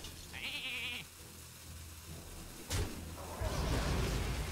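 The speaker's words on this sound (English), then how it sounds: "That thing's a sheep." A sheep in the card game Hearthstone lets out a short, nasal bleat near the start, followed by a sharp slam and a rising burst of game effects.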